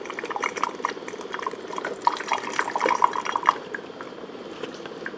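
Keurig K-Duo Essentials coffee maker running a hot-water cycle into its carafe, with steady trickling and pouring, gurgling bubbles and small drips close up, and no talking.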